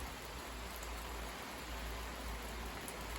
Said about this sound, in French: Là il pleut encore.